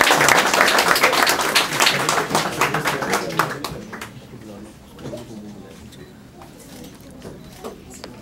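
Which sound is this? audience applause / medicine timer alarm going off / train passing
audience applause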